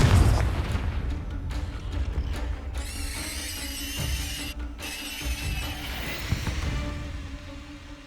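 Confringo explosion spell cast in Hogwarts Legacy, a heavy booming blast at the start followed by whooshing magical tones, clanking mechanical rattles and rumbling debris.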